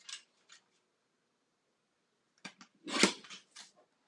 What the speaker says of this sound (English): I'm using my little Stampin' Up! Mini trimmer to quickly trim some strips.